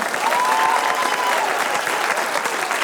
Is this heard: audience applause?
yes